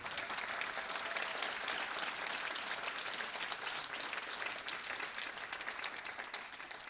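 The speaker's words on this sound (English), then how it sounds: "All right, a round of applause for all of our candidates." An audience at a primary election candidates' forum in Monroe, North Carolina gives a sustained round of applause, a steady dense patter of many hands clapping, fairly distant and even in level from start to finish.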